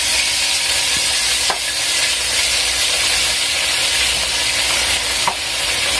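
Food frying in hot oil in a pot, a loud, continuous close-up sizzle and hiss with a couple of faint clicks, no voices.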